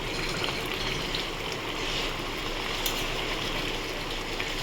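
Katla fish kalia simmering to reduce its liquid, a constant soft bubbling hiss with faint pops, steady and close throughout.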